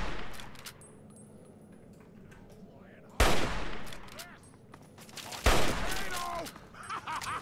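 Gun turrets in Fallout 3 open fire in loud bursts, with sharp heavy shots breaking out twice over a quieter bed of scattered gunfire and game noise, and a voice speaking in between.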